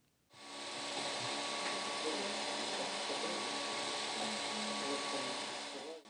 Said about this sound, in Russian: Чудо-машина слой за слоем создает объемные изделия из твердого пластика